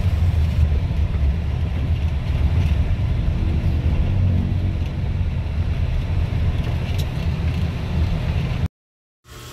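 A large vehicle on a road test, giving a steady low engine rumble with road and wind noise that runs continuously and close for most of the stretch before cutting off abruptly near the end.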